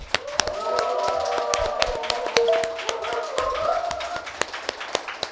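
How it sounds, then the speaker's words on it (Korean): Sharp, irregular claps from a talk show studio audience crack over a tonal musical bed as the programme opens, fairly close and crisp, without speech over them. "여러분이 힘찬 박수와 함께 시작하겠습니다"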